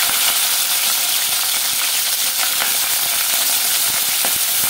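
Green chillies and onions sizzle steadily in hot oil for a cauliflower curry, a dense, loud, continuous frying hiss with small crackles and pops and no talking.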